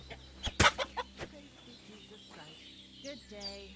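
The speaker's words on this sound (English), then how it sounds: "Yeah, like I'm trying to kill a chicken and cook it." A chicken clucks in the medieval game Kingdom Come Deliverance 2, a few short clucks and squawks after some sharp thuds and clatter, fairly faint over a quiet background.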